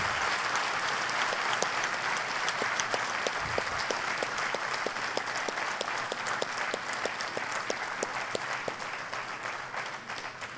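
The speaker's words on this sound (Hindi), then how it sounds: "मैं चाहता हूं आप सब एक बार तालियों से सम्मानित खड़गे जी का धन्यवाद करें।" An audience at a political speech event in India applauds steadily, the dense clapping sustained and fairly even throughout, with no speech over it.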